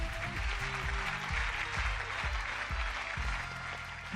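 Steady clapping and applause from a Trivial Pursuit Live quiz game, dense and continuous, laid over loud game music with shifting low tones.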